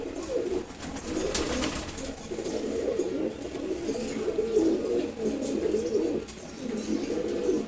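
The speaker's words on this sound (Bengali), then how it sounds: "খুবই অ্যাক্টিভ কবুতর এরা" A pair of active racing pigeons coo repeatedly up close, a continuous throaty, rolling warble in soft pulsing phrases with no talk.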